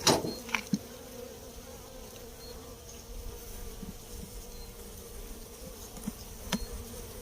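Honeybees hum steadily at an open hive during an inspection of brood frames, a dense continuous buzz close by with a few sharper insect passes near the mic.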